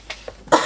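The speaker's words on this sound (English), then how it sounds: "Sorry about the coughing." Two small coughs, then a sharper, louder third cough from a woman, close up in a quiet studio room.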